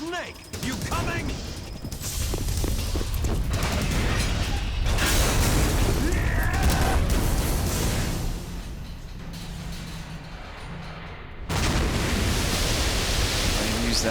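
A loud, rumbling explosion in Metal Gear Solid 2 bursts with crackling debris that sustains for several seconds, then fades before another blast hits.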